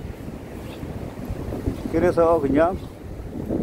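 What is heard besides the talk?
wind and high waves at sea harbor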